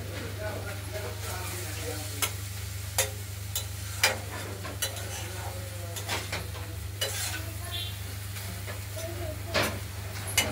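A spatula keeps stirring and mashing a thick radish and vadali dish in a wok, with repeated scraping clacks over a soft sizzle and a low steady hum beneath.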